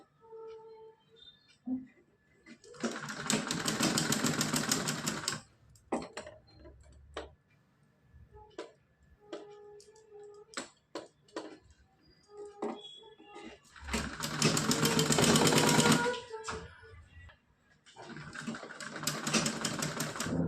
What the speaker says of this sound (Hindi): इसको हम सीधा इस तरह से पट्टी को ऊपर करके हम सिलाई लगाते आएंगे